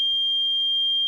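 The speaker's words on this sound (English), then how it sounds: "That's the fire alarm." Household smoke alarm sounding its yearly test beep, a single steady high-pitched electronic tone held for about a second, clear and alone.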